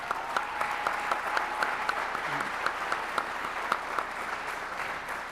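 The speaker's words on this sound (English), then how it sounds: "round of applause for all these great athletes" A crowd applauds honored high school athletes, a steady clapping wash with a few louder individual claps standing out near the microphone, no one speaking over it.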